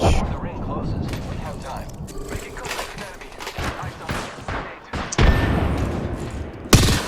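Gunfire and a grenade blast in the battle royale game Apex Legends: dense, continuous rattling shots throughout, with a louder burst near the end and a sharp crack just after.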